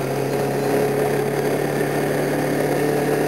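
A motorbike engine runs steadily during a ride in cold, icy conditions, its constant mid-range drone and low hum close and loud, with no talking.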